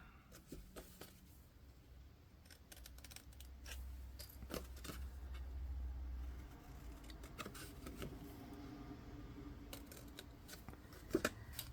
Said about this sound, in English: then we're just going to cut those little squares out again